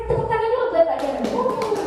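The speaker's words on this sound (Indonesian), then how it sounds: "Tepuk tangan dulu buat Pak Jarod." Classroom applause for a teacher, Pak Jarod, brief scattered clapping from students under ongoing speech and children's voices.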